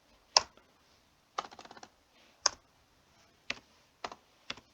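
Computer keyboard typing code, with a handful of separate close key clicks and short clattering runs in a sparse, uneven rhythm against a quiet background.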